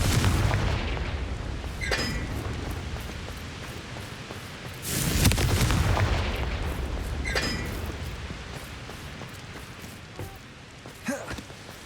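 Explosive fire-spell blasts in the Hogwarts Legacy video game, several heavy booming bursts with rumbling tails a few seconds apart, loud and close, mixed with lighter crackles and a brief vocal sigh.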